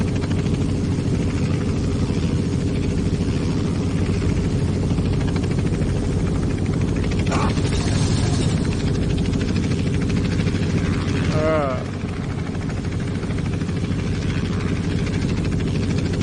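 A Robinson R44 helicopter engine in the X-Plane 11 flight simulator drones loudly and steadily with a continuous rotor hum, and brief radio-like tones cut in partway through.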